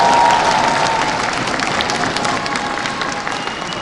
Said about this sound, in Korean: 모두에게 박수 한번 쳐주시죠